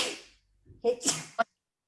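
A single sharp sneeze bursts out at the start, then fades into brief quiet before people speak in short exchanges.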